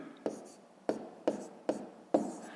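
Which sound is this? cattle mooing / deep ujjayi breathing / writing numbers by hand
writing numbers by hand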